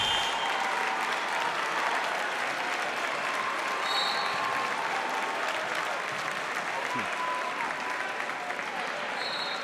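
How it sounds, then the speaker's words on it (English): Steady, roaring crowd noise with applause and cheering fills a high school boys basketball gym during an Oregon vs Waunakee game, loud and sustained throughout with no break. "Crowd's starting to get hyped again"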